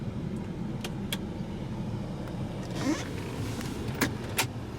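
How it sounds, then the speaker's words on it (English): Sunroof motor of a 2004 BMW 325ci with a 2.5 L six-cylinder, a steady low electric whir running throughout inside the cabin, with a few faint clicks and knocks on top. "Sunroof, with your sunroof controls."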